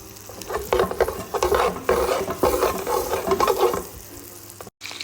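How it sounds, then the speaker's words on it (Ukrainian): Garlic frying in butter and oil in a pan, a steady close sizzle with stirring scrapes running throughout, cutting out briefly near the end. "Змічимо туди чесночку. Мало пожарю чесночок."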